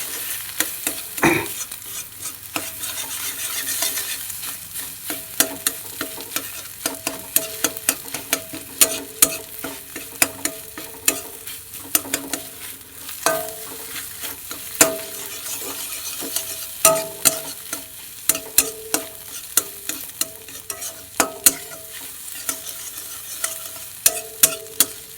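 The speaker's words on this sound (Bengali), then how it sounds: "এবার ডিম দিয়ে দিয়েছি, ডিমটাকে ভেজে নেবো" An egg fries in a pan for chow mein, giving a soft continuous sizzle broken by frequent sharp clicks and scrapes from stirring, with no voices.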